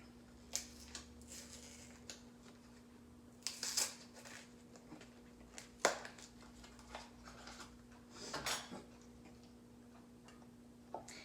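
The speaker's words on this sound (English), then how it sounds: "And then we're going to put some lids on them." Metal lids set onto glass canning jars of homemade ham stock, heard as scattered light clinks and taps, some in quick clusters, against a faint steady hum, with no voices.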